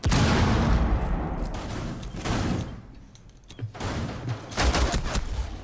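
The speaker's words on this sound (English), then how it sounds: "Frag's coming out and that's going to hit." A frag grenade going off in a Rainbow Six Siege esports match, a loud burst among sharp gunfire-like bangs and door-slam thuds, with several hits scattered through the stretch.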